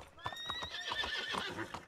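In Red Dead Redemption 2 roleplay on RedM, a frightened horse whinnies in rising calls while hooves clip-clop rhythmically nearby, loud and close with no talk.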